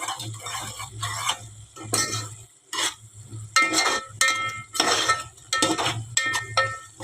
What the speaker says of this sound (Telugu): వేసుకొని ఒకసారి బాగా కలుపుకోవాలి